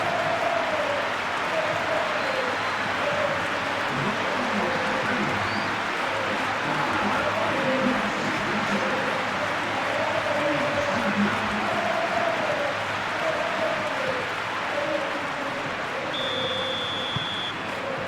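A football stadium crowd in the PES 2021 game, a continuous loud roar of cheering and rhythmic chanting that stays steady throughout, with a commentator speaking over it.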